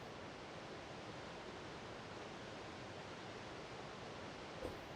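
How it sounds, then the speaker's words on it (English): Steady, faint rush of water flowing through an underground cavern beneath a city in the survival game Eco, a broad continuous wash with no voices, one small knock near the end. "You can hear the water flowing as well."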